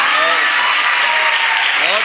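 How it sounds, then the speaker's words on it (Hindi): A crowd at a Hindi comic poetry gathering breaks into loud, dense applause that holds steady throughout, with voices faintly mixed in beneath the clapping. "जोरदार तालियां।"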